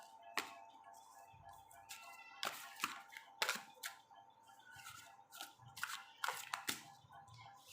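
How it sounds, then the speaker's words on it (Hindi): Tarot cards being shuffled by hand, a series of crisp close riffling snaps and taps at an uneven rhythm, fairly quiet with a faint steady hum underneath. "वापस से रीडिंग एक बार शफल कर लूँ मैं।"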